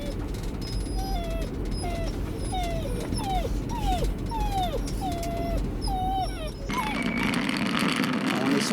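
A six-week-old Czechoslovakian wolfdog puppy whines and yips in a series of rising and falling squeals, about a dozen in a row, close by, over a busy background of other puppies and low noise that swells near the end.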